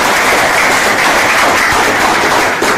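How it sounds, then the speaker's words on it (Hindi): An audience claps steadily at an event in India, a dense, even wash of applause held at full level throughout, with no voices over it. "थैंक यू सो मच भाई, एक बार ताली बजा दो इन्होंने।"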